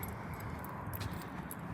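Keys jingle and clink as they are dug out of a pocket beside a police car, a steady light metallic rattle running close by and fairly quiet throughout.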